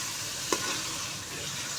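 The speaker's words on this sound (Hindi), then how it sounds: "अब प्याज हमारा जो है देखिए फ्राई होना शुरू हो चुका है।" Onions frying in a pan, a steady close sizzle with a single brief clink near the start, no voices.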